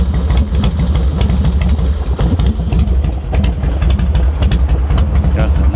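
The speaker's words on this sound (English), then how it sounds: "Straight Vance and Hines exhaust to talk to you." A Harley-Davidson Fat Boy FLSTF with straight Vance and Hines exhaust idles close by with a deep, loping, uneven exhaust burble, steady and loud throughout.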